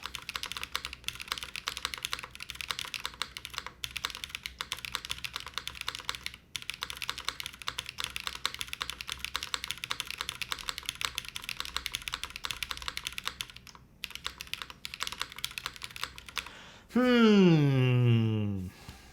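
Keys clatter on a QK80 mechanical keyboard with flex cuts and no foam, a dense, close, continuous stream of typing with brief gaps. A rising electronic tone cuts in near the end.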